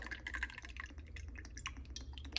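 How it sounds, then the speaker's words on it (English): Low-sodium soy sauce poured from a bottle into a measuring cup in a home kitchen, soft close trickling and dripping in short irregular bursts, quiet and without talk. "I'm just gonna put it into a measuring cup because it's easier to pour it into the Ziploc bags."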